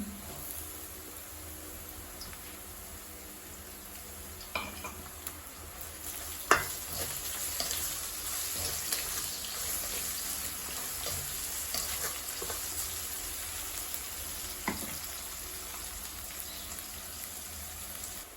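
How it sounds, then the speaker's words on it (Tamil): Steady sizzling of crushed garlic and ginger frying in a hot pan, with occasional sharp pops and crackles and a stirring scrape now and then. "இதோட நாங்கள் உள்ளி இஞ்சி இடித்து வச்சிருக்கிறோம், போட போகிறோம்"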